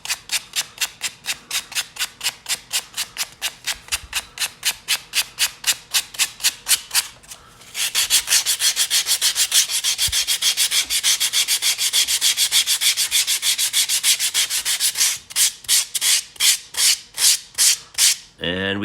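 Hand sanding of yellow foam to final shape makes rapid rhythmic rasping strokes, close and loud, with a brief change in pace midway and then the steady back-and-forth scrubbing resumes.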